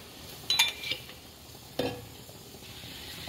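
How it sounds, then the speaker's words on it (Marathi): Oil hitting a hot pan used for bitter gourd curry, a couple of sharp sizzling bursts followed by a steady low frying hiss, close and with no talking. "थोडंसं तेल टाकते"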